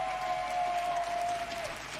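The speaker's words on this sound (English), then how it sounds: "Big round of applause for Excel and for Mickey." An audience applauds at a live wrestling show, a brief steady patter of clapping with a faint tone running through it.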